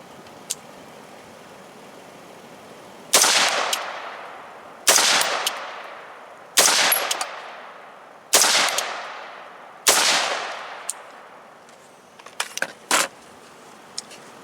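An LSW-build rifle fired outdoors, five loud, evenly spaced shots with ringing decays, followed by a quick cluster of sharper cracks and clicks near the end.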